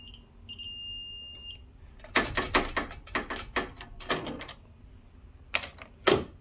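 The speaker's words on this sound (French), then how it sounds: "dès qu'on entend le bip, on continue, c'est que on est arrivé au couple de serrage." A torque wrench on a 2016 VW Sharan front brake job gives a short electronic beep, followed by a series of sharp ratcheting clicks and clunks up close.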